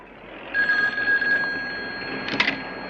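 A telephone bell rings close by in an old gangster-era setting, one sustained ring followed by a brief second burst, with no talking over it.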